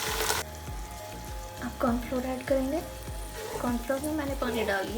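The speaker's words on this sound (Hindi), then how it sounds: "कॉर्नफ्लोर डालेंगे, साथ साथ हम इसमें चमचा घुमाएंगे।" Cornflour slurry poured into sizzling chicken chow mein and stirred with a ladle, steady frying hiss with repeated scraping strokes and soft bubbling.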